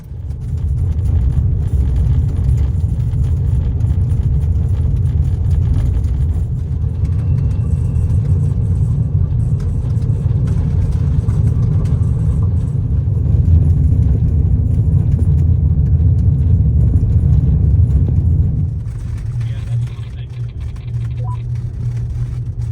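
A truck drives along an off-road dirt track with a loud, constant low engine rumble and road noise that drops to a softer idle near the end, and no voices.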